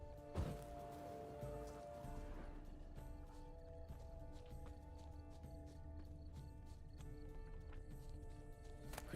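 Hooves clip-clop at a steady walking pace alongside snorts and a whinny from a horse in The Witcher 3: Wild Hunt video game, set against a quiet ambient music bed.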